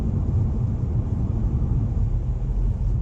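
A car drives onto flooded land in Portugal after a hurricane, giving a steady, loud low rumble of engine and road noise that holds evenly throughout with no voices.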